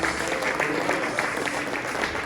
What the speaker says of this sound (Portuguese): Aplauda o Senhor no seu lugar, glorifica Ele que é santo, em nome de Jesus.